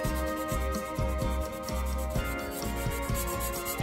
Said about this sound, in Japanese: 600番のサンドペーパーでルアー全体をサンディングします。